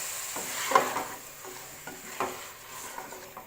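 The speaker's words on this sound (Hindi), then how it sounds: "इसमें अब डाल दूँगी मैं ये टमाटर" Roughly chopped tomatoes, four of them, stirred into a sizzling pan of kachnar gosht, with a soft steady sizzle and a few scraping stirs and utensil knocks, close and moderately quiet.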